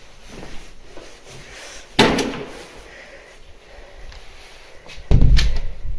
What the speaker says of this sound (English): What a beautiful thing when the door opens.